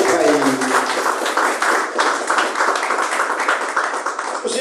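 A church congregation claps loudly for Jesus in a dense, energetic burst of many hands, sustained for several seconds, with voices talking and calling out underneath.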